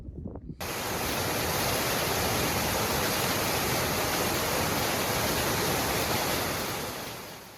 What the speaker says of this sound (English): Another small waterfall, created by the amount of surface water runoff that's been created by weeks of heavy rains and bad weather.